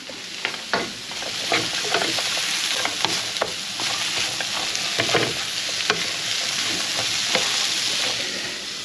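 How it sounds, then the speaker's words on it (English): Onion and mushroom browning in a frying pan, with a steady crackling sizzle throughout and sharp clacks of stirring scattered across it, fairly close and unaccompanied by voices. "brown off the onion and mushroom for a few minutes"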